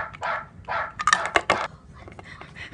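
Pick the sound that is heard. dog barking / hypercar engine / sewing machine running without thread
dog barking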